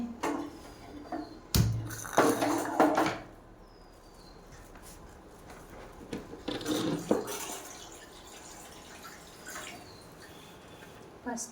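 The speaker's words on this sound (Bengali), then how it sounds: "এরকম এখানে জল দিয়ে দিচ্ছি চাটনির জন্য।" Water is poured into a cooking pan for a sweet chutney with cashews, raisins and sugar. It comes as a few short splashing bursts over a quiet kitchen background.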